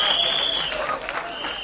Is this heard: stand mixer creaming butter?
no